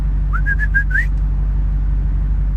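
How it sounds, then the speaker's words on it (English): A short, bright call of a few quick whistled notes from a bird in a tree rises over a constant low car engine rumble nearby. "There's a bird in a tree right here outside my office."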